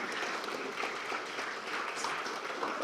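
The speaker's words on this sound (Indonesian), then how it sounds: "Ya, kita beri tepuk tangan." Audience applause at a political gathering, a soft, even wash of many hands clapping at a distance, steady for just under three seconds.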